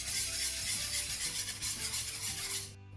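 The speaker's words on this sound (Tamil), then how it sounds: "அகப்பையால் கிளறதை விட விஸ்கால மிக்ஸ் பண்ணுறது ஈஸியாக இருக்கும்." A whisk beats an unroasted rice flour and sugar mixture for Sri Lankan dodol, making a continuous close swishing, scraping churn against the bowl. It stops abruptly near the end.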